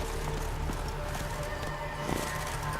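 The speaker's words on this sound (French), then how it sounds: "Mon cheval." Horse in The Witcher 3 video game, a whinny with clip-clopping hooves, moderately loud over a steady game background hum.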